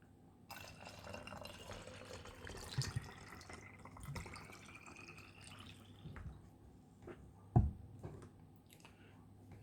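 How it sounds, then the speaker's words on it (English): Distilled water trickles and splashes into a chlorine generator bottle through a funnel, faint uneven pouring and drips with a sharper clunk near the end. "Add in the water."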